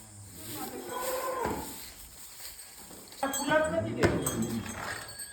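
Cows at a village farm make low shuffling and lowing sounds close by, rising near the end, while people talk over them.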